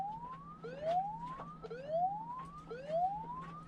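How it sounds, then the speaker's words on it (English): An anchor alarm app on a cruising sailboat goes off with a rising electronic whoop that repeats about four times in a steady cycle, loud and near over a low hum. "we'll get this anchor alarm to go off"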